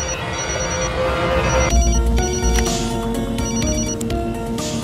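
Telephone ringing on an outgoing call, a steady repeating electronic ring tone playing over a dense dramatic music and effects bed in an action film scene, with no speech.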